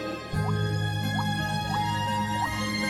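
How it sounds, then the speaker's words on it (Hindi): Animated drips of rainwater fall from a leaking roof during a story scene, four separate plinks spaced about half a second apart over a steady background of music. "छत से कितना पानी टपक रहा है"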